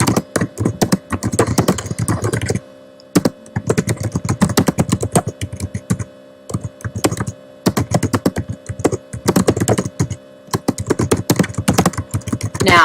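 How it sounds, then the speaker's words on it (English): Close, steady typing on a computer keyboard, rapid clattering keystrokes in bursts separated by brief pauses, with no talk over it. "Now I'm going to start typing."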